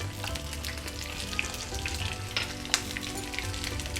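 Garlic and onion frying in ghee over a medium flame for an Indian masoor dal thali, a steady close sizzle with small crackling pops, moderately quiet and continuous.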